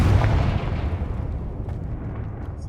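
A Confringo fire spell detonates in Hogwarts Legacy, a loud booming blast that decays into a low rumbling tail over a couple of seconds, with no other sound alongside it.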